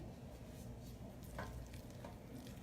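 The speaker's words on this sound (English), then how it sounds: "you just want to give it a gentle stirring" Black-eyed peas being gently stirred in a pot, a quiet scraping and soft sizzle with a couple of faint spoon clicks, low and steady with no talk.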